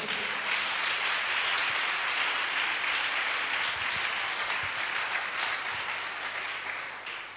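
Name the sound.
church congregation applauding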